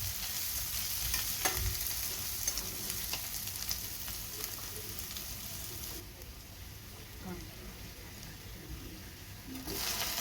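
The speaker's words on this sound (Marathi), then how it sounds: "कांदा एक वाटी बारीक चिरलेला आता हा थोडासा खरपूस भाजून घ्यायचा आहे आपण" Finely chopped onion fries in hot oil with mustard seeds and cumin, a steady close sizzle broken by stirring scrapes and taps, the sizzle easing slightly partway through.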